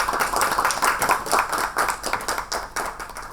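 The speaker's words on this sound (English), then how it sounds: "Round of applause, please." An audience at a panel discussion on Indian heirloom rice bursts into lively applause, with dense, irregular clapping rising and falling over a few seconds.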